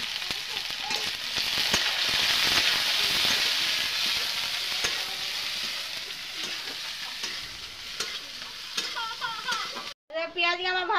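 Chopped onion and chili fry in hot oil, giving a loud sizzle with repeated stirring scrapes and taps of a spoon against the pan. A short burst of voice comes at the very end.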